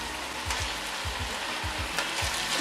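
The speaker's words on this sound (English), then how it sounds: "I'm going to return the meat to the pan." Beef short ribs for birria tacos sizzling in a deglazed pan, a steady loud frying hiss with repeated low scraping stirs as the meat goes back in.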